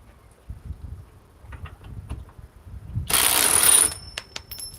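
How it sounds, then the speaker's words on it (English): A Kobalt compact cordless impact wrench on an 8 amp-hour battery fires one short, loud burst of under a second. It gives a harsh, buzzing high whine after a quiet stretch with scattered faint knocks. "8 amp hour ultimate output with the new Cobalt compact impact wrench"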